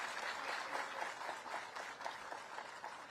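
Audience applause fills a hall during a Teachers' Day state educational excellence award ceremony, a dense steady clapping that carries on evenly throughout without voices.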